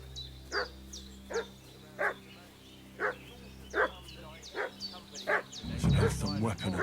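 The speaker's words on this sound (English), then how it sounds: "What's that dog making such a fuss about?" A dog barks in a medieval village in the video game Kingdom Come: Deliverance II, about eight evenly spaced barks from a distance over a low steady hum, with louder rustling movement near the end.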